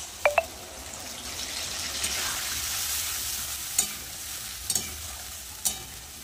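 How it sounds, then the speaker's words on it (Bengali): Ground spice paste of cumin, coriander, ginger, turmeric and salt fries with potatoes in a pan, giving a soft, steady sizzle, with a few sharp clinks of a utensil against the pan scattered through it. "মশলাটা ভালো করে কষিয়ে নেব।"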